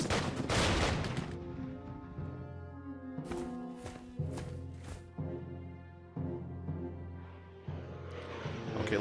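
Bombing attack in the Hex of Steel strategic wargame, with a burst of explosive gunfire-like blasts and several sharp repeated impacts over a sustained droning hum.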